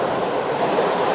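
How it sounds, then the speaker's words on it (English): A train rumbles steadily behind the speaker outdoors, a continuous broadband roar of rail cars passing nearby with no talk over it. "That's a train behind me."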